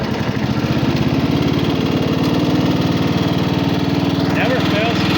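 A 1979 John Deere 111 lawn tractor engine runs at a steady idle, a loud continuous throbbing drone close by that holds level throughout.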